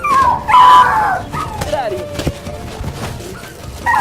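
A dog howls and yelps on a street while people attack it, with loud rising cries near the start followed by whimpers under ongoing voices and street noise.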